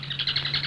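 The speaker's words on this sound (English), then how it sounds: "the little bird burst into a peal of laughter that pierced the forest" A little bird in a forest chirps in quick repeated bursts, a rapid bright twittering like a peal of laughter, with a steady low hum underneath.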